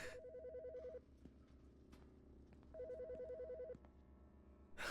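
Telephone ringing in the video game Autopsy Simulator, two clear electronic ring bursts separated by a pause, fairly quiet, with no talk over them.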